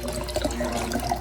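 Bottled water being poured into a 2-pint pitcher for sun tea, a brief, close, continuous splashing trickle.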